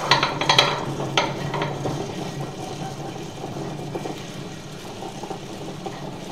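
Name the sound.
wet grinder grinding soaked wheat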